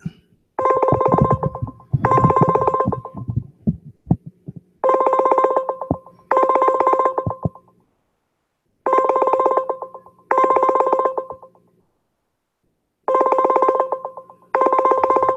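A telephone call rings in repeated paired bursts of electronic tone separated by silences, preceded by a quick run of dialing tones at the start, close and clear with no talking.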